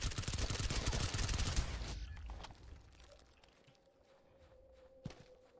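Rapid video game gunfire from a shooter, a dense burst of loud automatic shots for the first two seconds, then fading to sparse distant reports with one sharp shot near the end.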